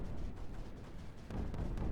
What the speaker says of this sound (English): And boom, boom goes the explosions.